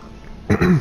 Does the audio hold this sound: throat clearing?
yes